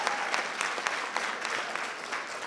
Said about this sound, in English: So from the students to the parents, a little bit of applause,